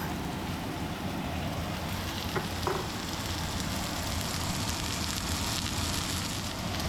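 A chuck roast sears steadily in a hot pan, a constant crackling hiss with a couple of faint clinks, no voices.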